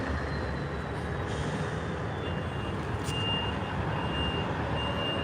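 A truck reverses with steady beeping to pick up a container, its engine rumbling loudly and continuously nearby, with a sharp burst of air brake partway through.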